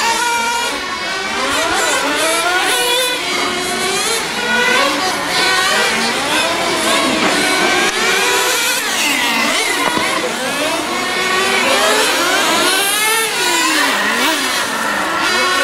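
A radio-controlled on-road race car, electric or nitro, screams around a hobby track, its high-pitched motor continuously rising and falling in pitch as it accelerates down straights and brakes into corners, loud and sustained throughout.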